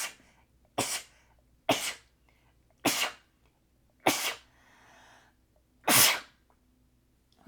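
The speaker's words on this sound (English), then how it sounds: "Got to sneeze." Five loud, sharp sneezes come in a row at roughly one-second intervals, close to the mic, with a soft breath between the fourth and fifth, set indoors where cone incense is burning.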